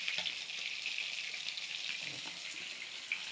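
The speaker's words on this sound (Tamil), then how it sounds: "வாழை மீன் பொரிஞ்சிக்கிட்டு இருக்கு." A pan of vaazhai fish frying in oil gives off a steady, even sizzle, soft and continuous at close range, with no talking.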